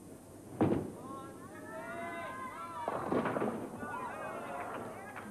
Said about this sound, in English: broke up the split and was able to leave just the 2 pins in the left-hand corner